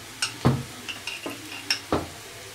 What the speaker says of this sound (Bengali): আদা রসুনটাকে একটু আমি ভেজে নেব প্রায় 1 মিনিটের মতো।